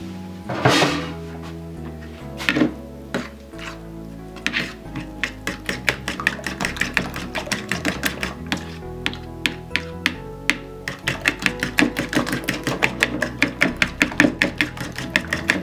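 Celery and onion chopped on a board with a knife, a few scattered heavy thunks giving way to a fast, steady run of close, crisp cuts that quickens toward the end, with no voices.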